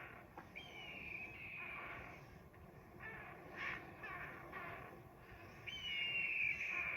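Wild parrots on Telegraph Hill give repeated harsh cawing alarm calls on spotting a hawk, loud bursts that come in rough series across the stretch with a strong burst near the end, set against an outdoor background.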